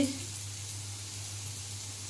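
Onions frying with turmeric and salt in a pan for a spicy Bengali fish curry, a steady soft sizzle that runs evenly throughout with no voices.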